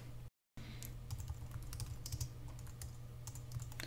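Typing on a computer keyboard while entering a place name into photo software: quick, light key clicks tapping in uneven bursts, close and quiet, with a steady low hum under them.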